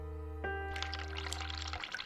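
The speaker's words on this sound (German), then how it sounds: "So, das Wasser könnte man eigentlich ausmachen, obwohl ist ja nicht meine Wasserrechnung." Running water in the video game The Cat Lady, a soft steady pour that starts partway through over a low humming drone that cuts out near the end.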